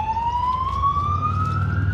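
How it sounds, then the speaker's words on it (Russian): An ambulance siren on a street in Spain sounds a steady rising wail, fairly close and loud, over low traffic rumble. "Скорая помощь кому-то приехала"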